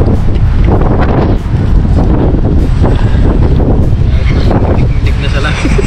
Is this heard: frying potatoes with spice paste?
no